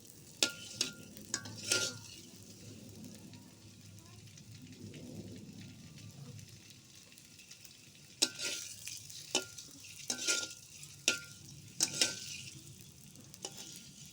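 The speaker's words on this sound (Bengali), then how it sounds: "তো চলো আমরা ভেজে নিই" Beaten egg sizzles in a hot pan with a low, constant crackle, broken by sharp clicks and scrapes of stirring in bursts. No one speaks.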